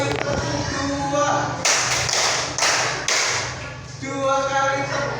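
A primary school maths class claps in counted groups, sharp bursts of many hands separated by short pauses while a teacher calls out the count over them.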